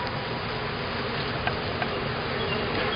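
Honey bees buzzing around an open hive during an inspection, a dense steady hum close to the microphone that carries on without pause, with a couple of faint clicks and no voices.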